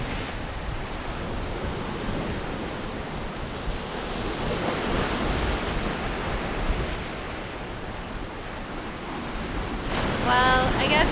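Big ocean waves break and wash steadily along the rugged Snæfellsnes Peninsula shore in Iceland, a continuous broad roar of surf with some wind buffeting the microphone, building slightly louder toward the end.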